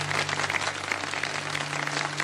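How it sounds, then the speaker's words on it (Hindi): A live audience applauds steadily in honour of Bilquis Edhi, with continuous clapping at moderate loudness over a faint steady low hum throughout. "बहुत बहुत बहुत सारी तालियां आपके लिए।"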